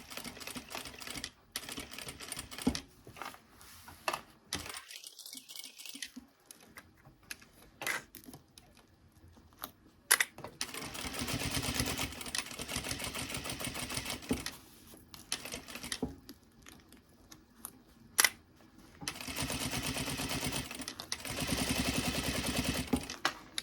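A sewing machine stitches a seam in long, steady bursts of rapid mechanical whirring and clatter, separated by short pauses and quieter handling noises, close to the microphone.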